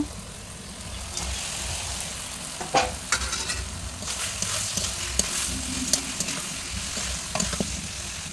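Potatoes fry in spice masala for a rohu fish curry, a continuous sizzle near the pan with irregular clinks and scrapes of a stirring spoon, without speech.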